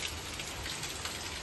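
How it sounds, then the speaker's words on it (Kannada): Heavy rain pours in a dense, continuous hiss, loud and unbroken. "ನೋಡಿ ಫುಲ್ಲಾಗಿ ಮಳೆ ಬರ್ತಾಯಿತ್ತು."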